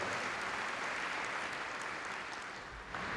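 A large gathering at a school kick-off event applauds its school board, a faint, distant, continuous wash of clapping lasting a few seconds without voices.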